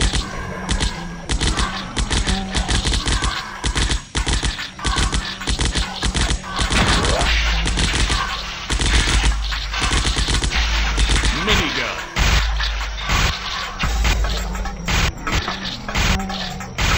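Rapid automatic assault rifle fire in the zombie shooter game Zombocalypse, loud dense bursts of shots nearly continuous with short breaks and crashing impacts mixed in.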